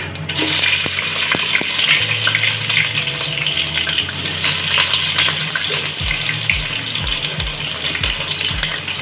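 Fenugreek seeds and onion fry in hot oil with a steady, dense sizzle and hiss, plus a few soft low knocks from the pan near the end; no one speaks.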